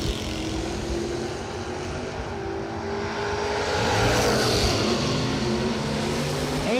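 A Monza drag racing car runs in the right lane at the strip, its engine a loud, sustained roar whose pitch climbs and sweeps through the middle of the stretch, with a steady rumble underneath.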